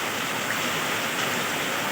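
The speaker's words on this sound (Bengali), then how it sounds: "দেখুন কী অবস্থা বৃষ্টি করে একদম জল চলে যাচ্ছে" Heavy rain pours steadily while water runs off, a dense, constant hiss of falling water with no break.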